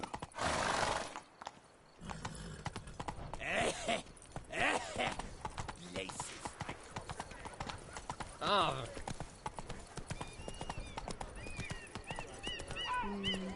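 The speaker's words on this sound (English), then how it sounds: "Slow now. Whoa. Run, Roach." Horse hooves clip-clop at a gallop in The Witcher 3: Blood and Wine, a steady rhythmic clatter with a horse's neigh, heard under game dialogue and voices.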